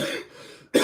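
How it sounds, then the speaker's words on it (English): A single sharp cough near the mic, preceded by a brief breathy throat sound, then silence. "Sorry for that cough."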